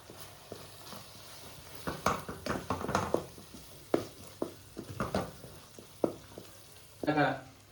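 Chili powder frying in a pan of melted oil while cooking a spicy prawn dish, with soft sizzling under repeated scraping and clattering stirring strokes, close and moderately loud, without talk.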